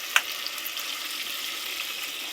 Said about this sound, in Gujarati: હાલો હવે પાણી નાખવાનું ચાલુ કર્યું